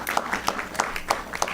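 Audience at a school board meeting applauds briefly: a light, rhythmic patter of claps at moderate distance, fairly soft and even, with no talk over it.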